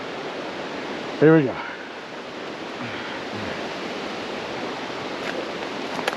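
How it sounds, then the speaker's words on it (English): Steady broadband rush of a waterfall on Lava Creek in Yellowstone, constant and moderately loud throughout, with a brief spoken phrase early on over the roar. "That's a waterfall."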